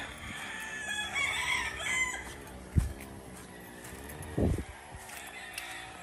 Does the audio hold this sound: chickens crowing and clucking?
yes